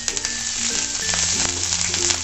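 Cumin seeds, grated ginger and curry leaves crackle in hot oil in a pan, giving a dense close sizzle with small pops throughout and no talking.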